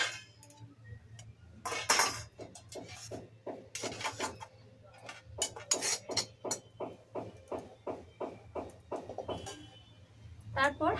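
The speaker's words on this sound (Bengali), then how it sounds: "এবার আমি সুজির মিশ্রণটা একটা থালার মধ্যে নামিয়ে নিচ্ছি।" A warm semolina mixture is scraped out of the pan onto a plate: a steady run of close, rhythmic metallic clinks and scrapes, about three per second, with a few louder knocks at the start.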